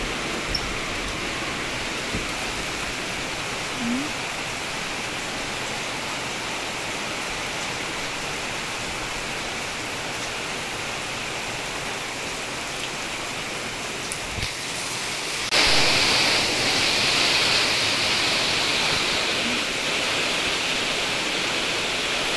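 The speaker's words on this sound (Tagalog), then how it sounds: "ang lakas na ng ulan" Heavy rain during a typhoon pours in a steady, hissing wash, with a sudden surge in intensity partway through as the downpour grows louder, and no one speaking.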